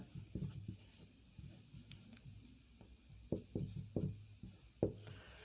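Chalk or marker scratches on a board in short, quiet strokes and taps as someone writes Hindi notes for a lesson on Rajasthan's folk goddesses, with soft rubbing between the marks.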